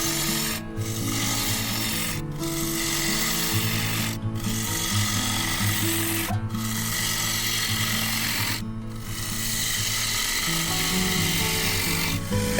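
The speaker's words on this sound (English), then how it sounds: "As I approach the bottom of the bowl, I switch to a 13mm gouge with a lower bevel angle." A 13mm gouge with a low bevel angle cuts a walnut bowl on a lathe near its bottom, giving a steady, close rasping scrape broken by brief pauses about every two seconds.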